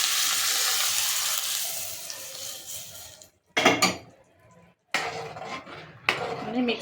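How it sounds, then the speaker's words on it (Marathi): Tadka tempering for besan gatte curry sizzles loudly in a pan, a steady hiss broken by short gaps and bursts of spattering and utensil clatter. "इथे आपण मस्त तडका देणार आहोत."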